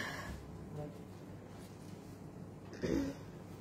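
A single short, dry cough rises briefly over a quiet background hum near the end.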